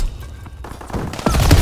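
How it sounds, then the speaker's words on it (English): Rapid automatic fire from an aircraft strafing run in a WWII shooter game, a burst of gunfire that builds and grows louder toward the end over a rumbling battlefield. "Call for a strafing run."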